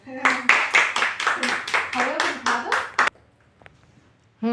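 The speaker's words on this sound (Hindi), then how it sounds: "सब लोग एक बार कोमल की जोरदार तालियां बजाओ" A group claps for Komal, a woman recovering from paralysis: about a dozen sharp, rhythmic, unison handclaps for three seconds, then near silence before a brief final burst.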